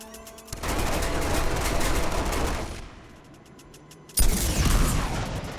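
Gunfire in Uncharted 2: Among Thieves during a fight with minigun enemies, a loud sustained burst of rapid shots, a quieter lull, then another sharp heavy blast and a loud burst of firing.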